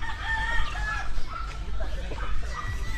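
A gamefowl rooster crows several times nearby, with clucking fowl and low background noise around it.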